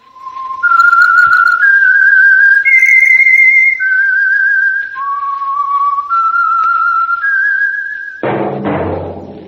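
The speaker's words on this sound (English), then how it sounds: "That whistle is your signal for the Signal Oil Program, The Whistler." A loud, clear whistled tune of long sustained notes stepping up and down, the opening signal of the radio drama The Whistler, heard alone, before a different burst of sound cuts in at the end.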